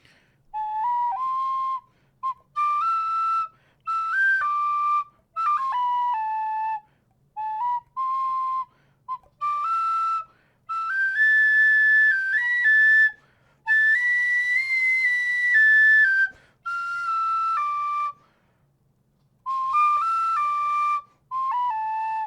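A tin whistle plays the Family Guy theme tune, bright, clear notes in short melodic phrases broken by brief pauses, close and alone with no talking.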